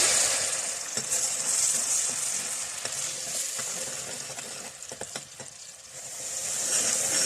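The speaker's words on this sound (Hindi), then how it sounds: "प्याज को बहुत अच्छी तरह से इसको फ्राई कर लेंगे।" Ground onion paste fries in a pan for mutton liver masala, a steady close sizzle and hiss with occasional scrapes and clicks of stirring, alone without voices.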